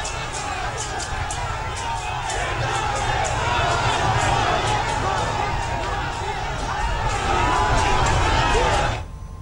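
Large crowd cheering and shouting along the route of Prime Minister Modi's roadshow in Bhubaneswar, a dense, steady roar of voices with whoops and children's shouts that stays loud throughout and cuts off abruptly near the end.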